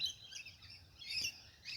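A flock of Australian king parrots under a shady overhead tree gives faint, scattered high chirps and tweets in a couple of short bursts against quiet background.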